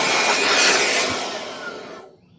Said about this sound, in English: Gonna have to change the battery in my blower.